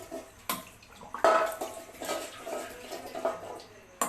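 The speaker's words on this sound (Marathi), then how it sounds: "डबा आता मी इथंच साफ करणार आहे" Water splashes over an aluminium container being scrubbed clean at a kitchen sink, with intermittent clinks of metal and running water in short bursts, close up and moderately loud.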